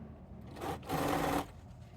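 A sewing machine chain-pieces quilt binding strips, with two short bursts of motor whir and needle stitching, the second one longer, set against a quiet room.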